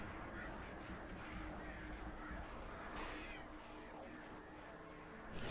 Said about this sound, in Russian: А, эти говняные вороны.